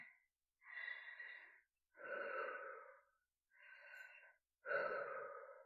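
A person pants heavily after running, with four long, ragged breaths separated by short pauses, close and alone without speech.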